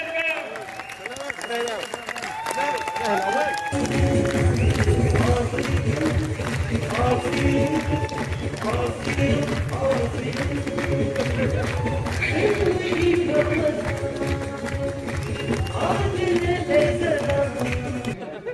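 A large audience at a business seminar in Palwal, Haryana breaks into loud, sustained applause and cheering as a star-rank member is called to the stage, the clapping filling the hall steadily and densely throughout.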